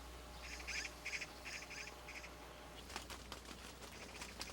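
A magpie in an apple orchard chatters in a series of short, rapid harsh calls, faint and distant over a low steady hum, followed by scattered soft clicks and rustles.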